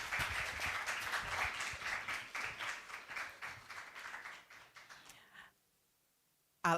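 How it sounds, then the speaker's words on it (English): Audience applause for secondary school students at a debating competition in Dominica, a steady roomful of clapping that fades out after about five seconds and then gives way to near silence. "Let us give them a round of applause."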